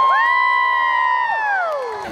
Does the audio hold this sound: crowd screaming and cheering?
yes